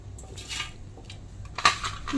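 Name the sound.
dried turmeric pieces put into a mixer grinder jar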